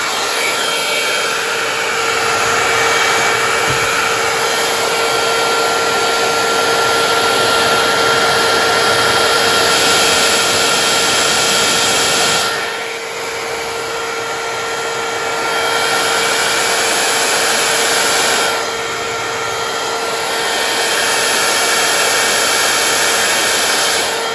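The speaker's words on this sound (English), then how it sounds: "I'm going to blow this with my hairdryer. With my little silicone nozzle on it. Just on cool." A hair dryer set to cool with a silicone nozzle blows air over acrylic pour paint: a loud, steady close-up rush that eases briefly twice as the flow shifts, with no talking.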